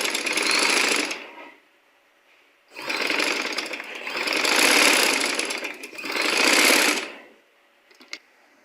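Sewing machine stitching a double seam along a kurti neckline, running in three loud bursts of rapid whirring with short pauses between them, close by and with no talk.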